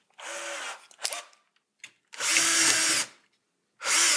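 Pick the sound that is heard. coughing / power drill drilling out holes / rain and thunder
power drill drilling out holes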